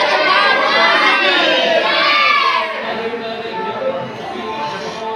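A large crowd at a devotional night jagran shouts loudly together, a dense roar of many voices including children that fades partway into scattered chatter.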